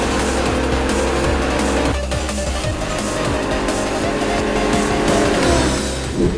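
A drag racing car engine in the mobile game Street Drag 2 roars steadily and loudly, with shifting revs and a brief tire squeal, all under a dense, continuous layer of game sound.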